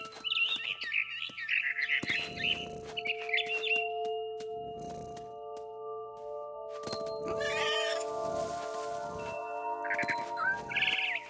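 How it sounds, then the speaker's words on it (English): Small bird chirps from a barn swallow at its nest in the game What Remains of Edith Finch, bright short calls heard early and again near the end, mixed with cat-like meows and sustained musical tones. "Then I heard chirping outside my window. It was a barn swallow going back to her nest."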